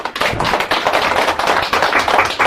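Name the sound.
audience clapping to welcome a speaker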